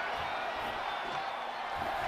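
A wrestling arena crowd cheering, a steady wash of distant roaring voices with no distinct peaks.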